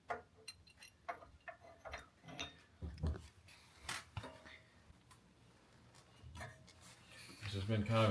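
A ratchet turns a 5/8 socket while a Thrashin Supply foot control is installed on a motorcycle, with quick clicking bursts and metallic clatter close by, mixed with people talking.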